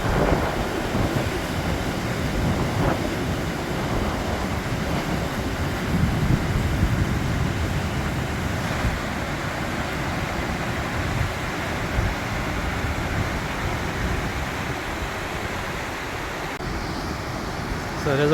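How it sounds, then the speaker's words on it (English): A waterfall on Yakushima island at the end of a World Heritage hiking route, in cold, wet weather, gives a continuous loud, broad rushing roar that holds steady throughout, with no talk. "So there's a waterfall."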